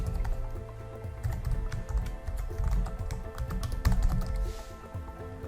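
Quick, steady typing on a computer keyboard as a variable name is entered, close and continuous clicking over a low background hum.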